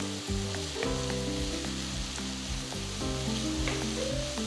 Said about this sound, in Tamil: ஸோ வெங்காயத்தை நம்ம கொஞ்சம் ஒரு 5 நிமிஷம் நல்லா வதக்கணும்.